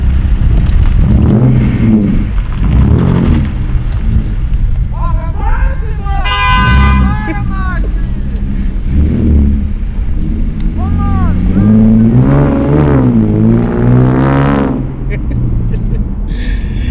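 Engine of a Mustang driven in a video game, loud and continuous with revving and horn toots, under almost constant excited talk.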